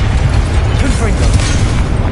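A Confringo blasting spell explodes in the video game Hogwarts Legacy, a loud, dense, rumbling boom that fills the whole moment without letup.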